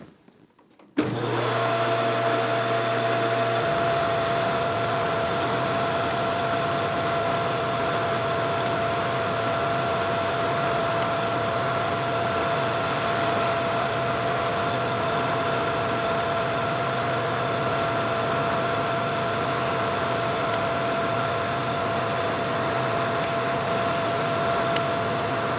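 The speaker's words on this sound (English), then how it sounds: "we're going to turn this down, we're going to change the bit, change all the settings on the lathe" Metal lathe turning down a bronze crank arm for an 1894 Giraffe bicycle, a loud, steady motor hum and whine that starts abruptly and runs unbroken throughout, with a slight shift in tone early on.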